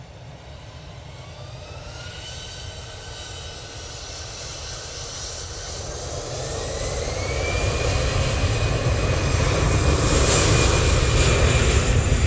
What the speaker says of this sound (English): Let's see if we can get both this EasyJet and that